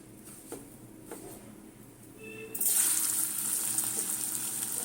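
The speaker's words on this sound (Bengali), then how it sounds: "কড়াতে তেল চাপিয়েছি রিফাইন তেল দিয়েছি এবারে পনিরগুলো সব দেব ভাজব" Paneer pieces hit hot refined oil in a wok and burst into a loud, steady hiss and sizzle that holds after a few quiet clinks.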